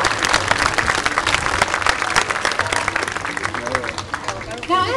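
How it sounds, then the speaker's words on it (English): Aquarium audience applauds Java, a California sea lion, with a dense, lively burst of clapping from a crowd, steady and fairly loud, with a voice talking over it and a brief animal-like sound near the end. "make sure you put those hands together and let Java hear it, because he does appreciate all of your applause"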